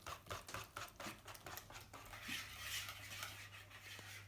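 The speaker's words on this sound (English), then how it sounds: "Add the rest of your milk. Carry on whisking." A whisk beats pancake batter and milk in a bowl, making quick rhythmic clinks and swishes that turn into a softer, faint continuous stirring.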